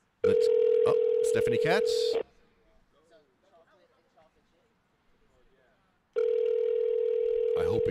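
Outgoing telephone call to a prosecutor's office ringing out: two long, loud electronic ring tones separated by a quiet pause, with a brief voice speaking during the gap.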